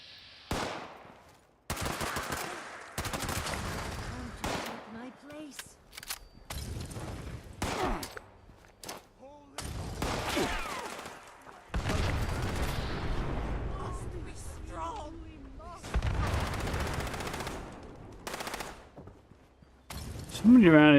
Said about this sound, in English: Somebody around here shooting at me somewhere, but I don't know where they are.